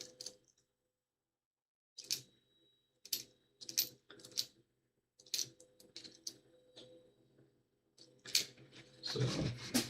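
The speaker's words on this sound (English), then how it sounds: "I'm typing with one hand." Someone types with one hand on a computer keyboard, producing irregular clusters of close, crisp key clicks separated by short pauses, building into a denser clatter at the end.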